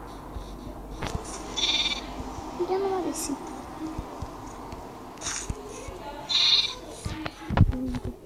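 Sheep bleat in several short calls at a distance on a farm, mixed with close talking and rustling from someone nearby.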